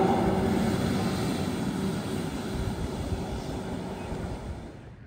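An electric Taiga Orca jet ski runs at full throttle on open water, a steady loud whining rush that slowly fades as it moves away, with no voices.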